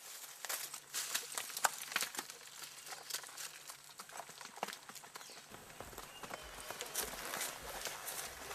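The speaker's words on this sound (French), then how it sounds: "De l'autre côté du village, les chevaux attendent pour une nouvelle partie de plaisir." Horses clip-clop on the far side of a village, hooves striking in an irregular, overlapping patter at moderate distance, with light rustling underneath.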